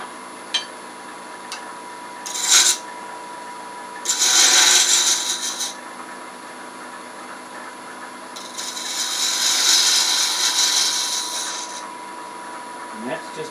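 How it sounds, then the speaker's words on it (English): A spindle gouge cuts the corner off a turning wooden headphone part on a lathe, giving two or three scraping, rasping bursts of cutting over a steady machine hum. "I'm just going to take a spindle gouge and just cut that corner off"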